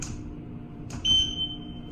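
A Schindler 3300 machine-room-less parking garage elevator's alarm button sets off a short electronic tone partway through, steady and moderately loud over a low background hum.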